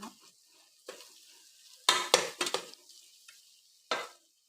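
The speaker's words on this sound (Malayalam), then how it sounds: "നന്നായിട്ട് വാട്ടണം" Chicken with chicken masala and turmeric being stirred and sautéed in a pan: scattered scrapes and clinks of a utensil against metal over a soft sizzle, with a cluster of sharper strokes in the middle, close, no voices.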